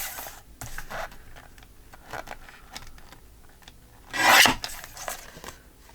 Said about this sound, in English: I'm going to trim this one so it will fit.